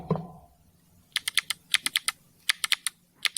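A keyboard fitted with loud mechanical switches clacks in quick, uneven bursts of crisp keystrokes, close and alone after a short low thump at the start.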